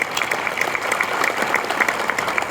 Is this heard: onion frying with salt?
no